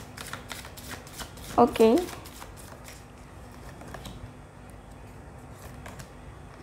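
A deck of tarot cards shuffled by hand, a rapid run of crisp riffling flicks across the first few seconds and trailing off, with a brief spoken word in the middle.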